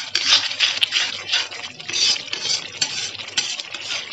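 Yogurt thickening as it cooks in oil in a pan for dum aloo with fenugreek and peas, stirred with a spoon: continuous close scraping and swishing with a faint sizzle, steady and alone.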